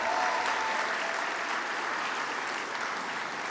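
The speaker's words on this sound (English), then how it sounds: "You didn't tell me you brought your own cheering section, Kate" An audience at a high school sports awards show applauds steadily, a dense even patter of many hands at moderate distance, fading slightly toward the end.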